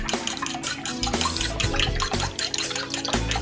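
Beaten eggs poured into a mixing bowl over grated potato, onion and pepper, giving a steady close liquid splashing and glugging that runs continuously without talk.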